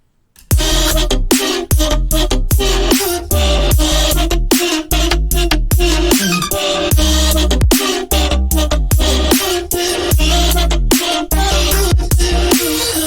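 Loud, dense electronic music with rhythmic plucked synth notes layered over a filtered vocal, sweeping filter movement and steady driving beat throughout.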